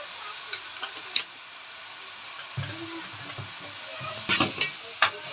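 Minced onion sizzles in a hot pan with salt and pepper while a spoon stirs it, making a steady frying hiss broken by a few clinks and scrapes, close-up.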